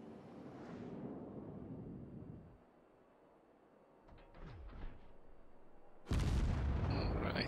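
Warship guns firing a salvo in the naval combat game World of Warships, a loud broadband boom that bursts in near the end after a rumbling passage and a few quieter thuds.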